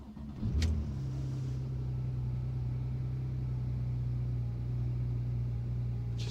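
Porsche 911 Turbo S 991.1 coupe with a 3.8 engine firing up: a sharp starter catch and burst of revs, then a low, steady idle rumble that settles and holds close by.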